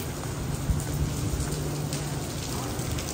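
Heavy rain, with hail reported, falls steadily on a college campus in Dehradun as a dense, even hiss of drops on surfaces that stays constant throughout with no voices.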